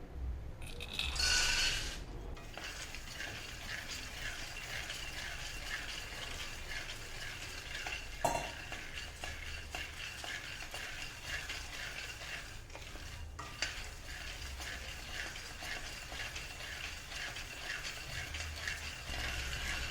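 Half a kilo of peanuts dry-roasting in a pan, stirred continuously, gives a steady rattling scrape with a dense crackle, loud at first and then even, broken by a few sharper clinks.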